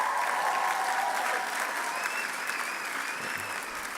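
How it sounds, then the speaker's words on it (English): Audience at a dinner event applauds after a song, a steady, even wash of clapping from a large crowd, somewhat distant, holding throughout. "Can we just get another round of applause for that song,"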